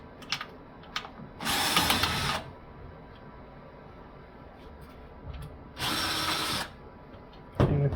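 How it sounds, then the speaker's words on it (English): Two bursts of a power drill at low torque removing screws from a 3ntr A2/A4 3D printer front panel, each under a second, separated by quieter handling clatter and light clicks close by. "If you are using a drill like this, just make sure you have your torque setting fairly low"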